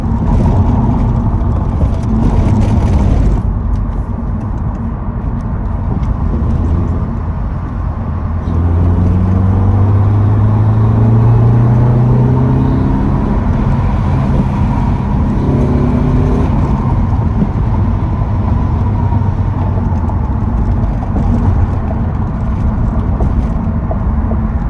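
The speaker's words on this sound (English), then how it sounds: "Do a few power shifts, you know." An Acura RSX with a K24 engine roars loudly and steadily under power shifts and a downshift, the engine note rising and falling through gear changes from inside the cabin with no talk.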